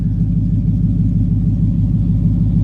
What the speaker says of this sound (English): let's get a couple little rev. She sounds good.